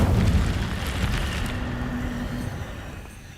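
An Incendio fire spell cast in Hogwarts Legacy bursts with a deep, rumbling whoosh that starts loud and slowly fades, with a brief low hum in the middle.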